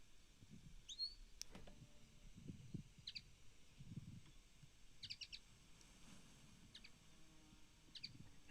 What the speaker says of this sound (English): So the linnet.